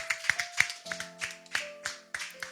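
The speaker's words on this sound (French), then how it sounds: "Acclamons encore plus fort pour Jésus." A church congregation applauds for Jesus during a French-language prayer service, a series of sharp, moderately loud claps in an uneven rhythm with a sustained tone humming underneath.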